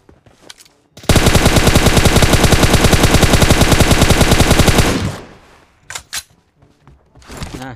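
Sustained, rapid automatic gunfire from PUBG Mobile during long-range shooting, a loud unbroken burst of about four seconds, followed by a few scattered quieter shots.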